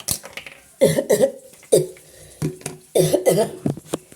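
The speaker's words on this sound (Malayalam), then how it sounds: "ചെറിയ ചുമക്കെ ഉണ്ട് പൊന്നു മക്കളെ" Several short, close coughs come in clusters, each a hoarse burst from a person with a slight cough, separated by brief quiet gaps.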